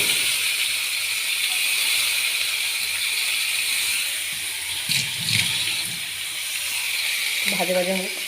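Onions sizzle in hot oil with cumin and bay leaf, giving a steady, even hiss from start to end, with a brief voice-like tone near the close.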